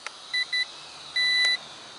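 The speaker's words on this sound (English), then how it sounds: "That beeping gets annoying after a while." Short electronic beeps from a Quadrone Pro-Cam drone in an uneven pattern, two quick tones then a longer one, high-pitched and clear over a faint steady whir.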